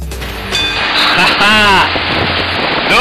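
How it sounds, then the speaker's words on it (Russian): Rain falls steadily around a roofed shelter, a constant broadband hiss, while someone speaks close by in Russian over it. "Дождь вокруг, а я под крышей."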